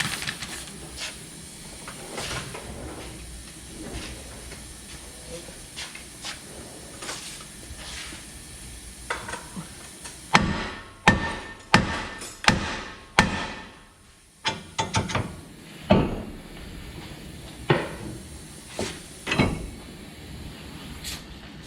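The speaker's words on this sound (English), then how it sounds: "we're going to hit this with a hammer and get that whole thing to drop" A hammer strikes the spindle of a Chevy Express van during a lift install, about ten sharp metallic blows in an irregular series following a stretch of quieter workshop noise, close and loud.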